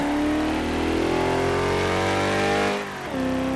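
A 1959 BMW 507's engine in Forza Horizon 3 holds a steady, snarling drone at rising pitch, then dips briefly as it shifts and picks back up, loud and close with no talking.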